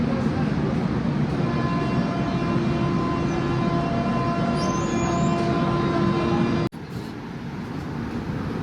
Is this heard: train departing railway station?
yes